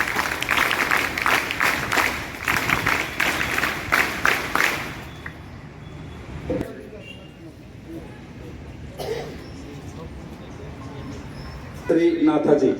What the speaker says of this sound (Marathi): सर्वांनी तुमच्या पाठीमध्ये टाळ्या वाजवायचे.